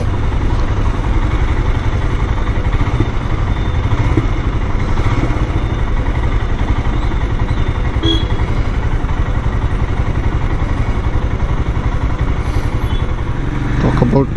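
Close up, a Scram 411 motorcycle ticks over at idle, its uneven mechanical putter and clatter holding a constant level for the whole stretch.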